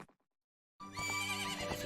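Horse neighing in the video game Zelda: Ocarina of Time, a short clipped sound at the start, a brief silence, then a loud, bright, tonal whinny filling the rest.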